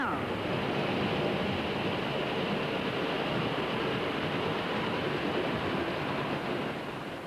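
A Hornby toy train set runs round its track in a steady, continuous rushing rumble that holds even for several seconds and then eases slightly at the end.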